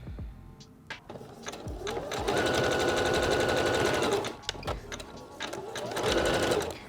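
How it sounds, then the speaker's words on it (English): A sewing machine stitches down the middle of a strip of elastic in steady close whirring runs, pausing briefly between bursts of needle rattle. "And I'm just sewing almost down the middle of the elastic."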